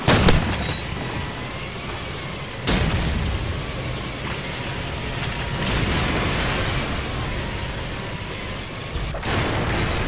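Gunfire and explosive booms in a Call of Duty 4 multiplayer match, a few sharp loud bursts standing out from a dense, rumbling battlefield wash that continues steadily throughout.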